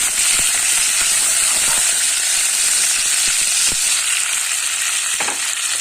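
Butter melts and sizzles loudly in a frying pan in a home kitchen, a dense close hiss broken by scattered clicks and scrapes of stirring.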